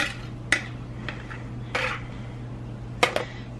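Spoon scraping and knocking against a pot while a cream mixture is stirred into cooked, strained beef for beef and noodles, with a few sharp clinks spread across a steady low hum, no talking.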